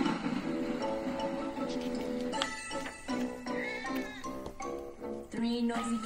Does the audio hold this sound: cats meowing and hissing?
yes